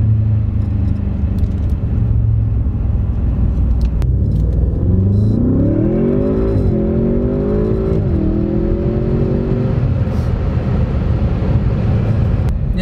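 A 2020 Audi S8 with a custom exhaust runs with a deep, loud exhaust rumble, rising in pitch as it revs and then settling back to a steady idle.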